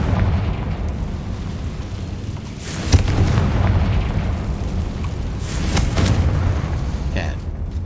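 A Confringo blasting spell goes off in Hogwarts Legacy, a sharp burst near the three-second mark followed by a second swelling blast around six seconds, all over a steady rumbling game soundscape with voices in the background.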